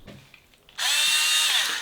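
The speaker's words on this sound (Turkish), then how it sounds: "Sonra da duvara sıkıştırıyorsun bu minnoş küçük matkapla." A small cordless drill drives a screw into a wall, starting after a brief quiet pause with a loud, close, high whirring burst that holds steady for about a second and then winds down.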